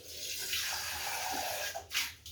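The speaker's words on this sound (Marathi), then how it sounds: "तर मी अजून थोडंसं पाणी टाकणार आहे" Water pours into a pan of matar paneer curry, a steady close splashing stream that runs for about two seconds before trailing off with a final spill.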